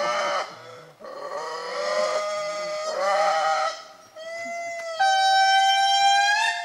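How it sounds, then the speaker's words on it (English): An indri lemur in Madagascar sings a long, eerie wailing song, rising and falling tonal howls in several phrases, ending in a sustained siren-like note, fairly close and clear. "It's an eerie wailing sound, kind of a cross between a whale song and a siren."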